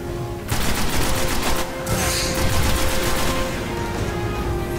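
In the video game Destiny, enemies fire a rapid, dense barrage of gunfire at the player, with bursts of shots and blasts coming continuously and loud and close, without speech.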